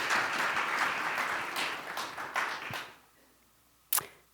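An audience at a cross-border payments keynote panel gives the panelists a brief round of clapping that fades out after a few seconds, followed by a single sharp click.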